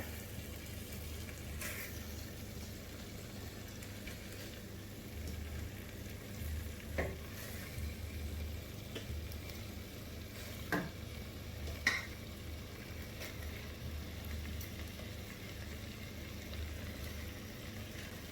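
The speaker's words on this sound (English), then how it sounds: "we are going to cook these chicken wings for about 7 to 8 minutes" Chicken wings frying in a pan give a steady, quiet sizzle throughout, with a few faint clicks and taps of utensils against the pan, no talking.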